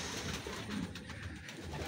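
Racing pigeons coo softly inside a loft, low throaty murmurs over a continuous background hum, fairly faint and close.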